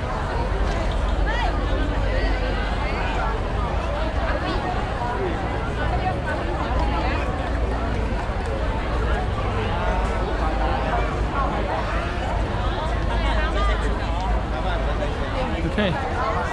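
A big street crowd in Guangzhou, China fills the air with a steady, dense hubbub of overlapping voices and chatter, continuous and close all around without a break.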